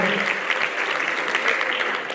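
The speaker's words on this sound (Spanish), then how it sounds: "Aplaudimos fuertemente, recibe a Alberto Fidalgo." Audience at a Galician mountaineering federation award gala clapping loudly and continuously, a dense, close patter of many hands with no pause.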